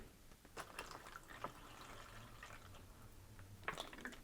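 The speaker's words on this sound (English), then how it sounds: "Gonna add water to this fill line." Water trickling and dripping into a plastic MRE sports drink pouch, faint and close, in uneven small splashes and a soft pour with no talk.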